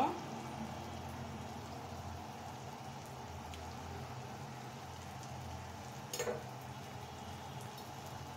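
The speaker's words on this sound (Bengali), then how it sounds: "এখন আমি আলুটা, টমেটোটা, মশলাটা খুব সুন্দর করে কষিয়ে নেব।" Potato, tomato and spices sauté in a pan for a pabda fish curry, making a faint, steady sizzling crackle that stays low throughout, with a brief louder scrape near the end.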